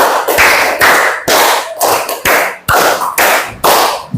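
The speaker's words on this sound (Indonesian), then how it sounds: "tepuk tangan semua" Children in a classroom clapping hands together in rhythmic bursts, about eight sharp, loud, close groups of claps with brief pauses between them.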